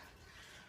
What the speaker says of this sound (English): There really is running water in the background.